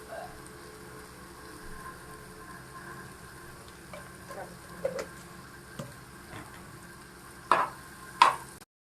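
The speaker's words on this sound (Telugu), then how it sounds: "అల్లం పేస్ట్ వేసుకోవాలి అలాగే లైట్గా సాల్ట్ కూడా వేసుకుంటే మంచిగా ఫ్రై అయింది" Banana slices frying with ginger paste and salt make a faint, quiet sizzle with occasional soft scrapes and a couple of louder clinks of a utensil near the end.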